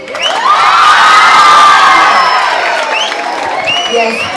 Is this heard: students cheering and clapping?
yes